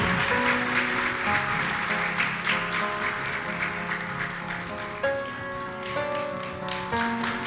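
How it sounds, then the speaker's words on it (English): Applause at an honorary doctorate ceremony at Ankara University in Türkiye, steady crowd clapping over ceremonial music with sustained tones throughout. "Alkışlarla, with applause please."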